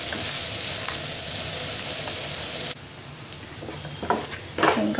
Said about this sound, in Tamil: நல்லா கோல்டன் ப்ரௌனாக வதங்கட்டும்.